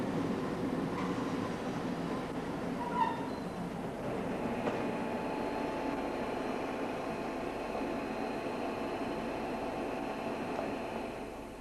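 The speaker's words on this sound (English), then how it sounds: "The train now arriving at platform 1 is the 12:44 from London Waterloo to Southampton" A train pulls in at platform 1, the 12:44 London Waterloo to Southampton service: a steady, fairly close broadband rumble and rolling roar that holds throughout with faint squeal tones and no voices.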